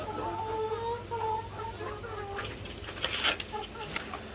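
Laying hens in a flock of about 300 on a small farm cluck and murmur in soft overlapping calls over a constant low hum. Some louder, sharper squawks stand out toward the end.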